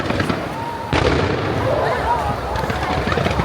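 A firecracker goes off outdoors near Rod Laver Arena in Melbourne during the Australian Open, giving one sharp bang followed by a crackling tail, with people talking nearby.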